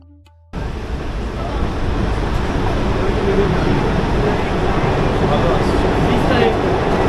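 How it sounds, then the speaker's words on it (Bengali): A Kashmir local train on the way to Amarnath runs with a loud, steady roar and rumble. The sound kicks in suddenly after a brief quiet moment and continues unbroken, close and constant. "আপনারা যারা কাশ্মীরে আসছেন তারা অন্তত একবার কাশ্মীরের লোকাল ট্রেনে চড়ুন"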